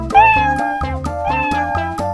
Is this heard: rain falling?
no